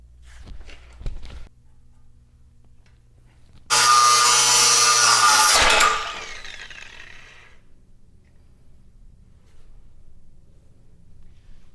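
An angle grinder cuts off a chassis part in a workshop, a loud sustained screeching burst of about two seconds that drops abruptly, with faint knocks before and low background hum after.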